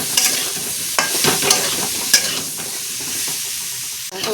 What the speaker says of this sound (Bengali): ওলটা ভাজা করে নেব।